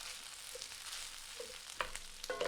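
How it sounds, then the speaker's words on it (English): Garlic fried rice sizzles steadily in a pan, a constant frying hiss broken by a few clinks and stirring scrapes. "you're just gonna fry your rice"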